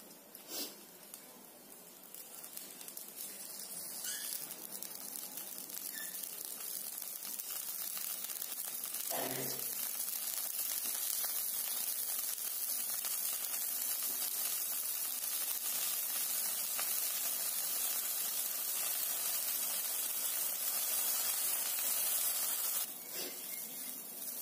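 Curry gravy with water added to fried spices boils in a pan over a raised flame, a soft continuous hiss and bubbling that grows slightly louder, with a few faint knocks.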